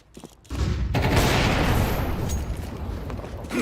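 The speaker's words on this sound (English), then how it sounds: "I'm throwing the flashbang." A flashbang grenade goes off in a video game with a sudden loud burst after a short pause, followed by a long roaring, ringing wash of noise.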